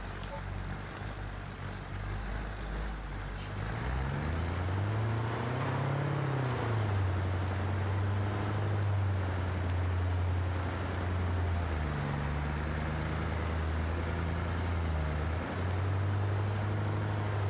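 Truck engine idling in a space car video game: a steady, low rumbling hum that rises briefly around one point, then settles and shifts pitch slightly, continuous and fairly close over faint background noise.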